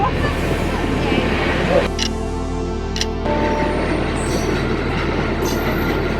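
The Saraighat Express (12346, Guwahati to Howrah) rumbles steadily along the rails at speed, with a constant low roar and brief high metallic squeals, close and loud throughout.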